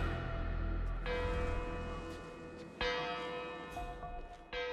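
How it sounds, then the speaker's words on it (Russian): A bell tolls in the video game Hitman, two long resonant strikes followed by the start of a third, each ringing out and slowly decaying over a low background rumble. "Или подожди, вот колокол."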